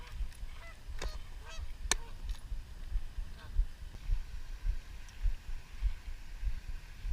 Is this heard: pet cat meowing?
no